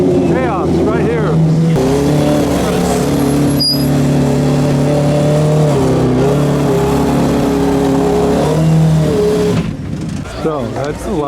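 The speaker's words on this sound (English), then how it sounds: "So that's a loud arrival, mainly BMWs." A group of mostly BMW cars arrives loudly at The Quail car event in 2016, engines revving and droning close by in a dense, continuous roar with rising and falling pitch, with crowd noise mixed in.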